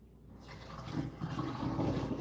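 Water from a pot of boiling saltfish is poured out, a gushing, splashing pour that swells louder toward the end, close and alone.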